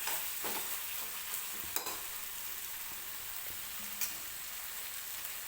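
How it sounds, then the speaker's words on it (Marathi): Spice masala sizzling in oil in a pan, stirred now and then, giving a continuous close hiss with a few soft scrapes and sharp clicks of the spoon. "मध्ये मध्ये हा मसाला असा हलवत राहायचा आहे"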